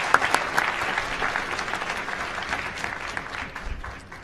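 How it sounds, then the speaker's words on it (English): An audience at an international oral presentation session applauds steadily, a dense even clapping that holds at a moderate level for about four seconds with no talk over it. "Please join me in giving a big round of applause."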